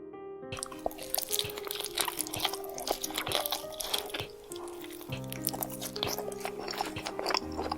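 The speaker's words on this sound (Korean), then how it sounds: "누군가가 바로 곁에서 무언가를 씹고 삼키는 듯한 소리였다." Someone chews and swallows food, close and wet, with steady crunchy bites and moist smacking sounds over a faint background drone, creating an eerie night-time horror effect.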